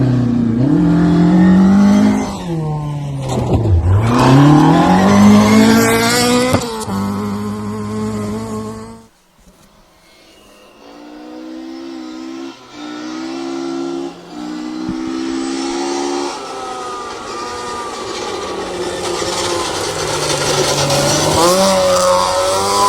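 A Ford Escort MK2 rally car driving hard along a stage at a stages rally, its engine loud and close, revving up and down through gear changes, briefly fading then returning.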